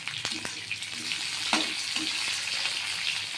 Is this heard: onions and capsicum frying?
yes